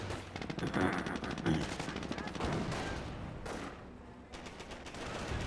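Rapid machine-gun bursts crackle in a Company of Heroes battle, a dense string of shots with quieter rattling and scattered distant fire between, under a continuous game soundscape.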